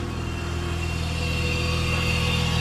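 A Mazda RX8 rotary engine idles steadily while warming up after sitting for years, a smooth, even, continuous hum, close and moderately loud, with no revving.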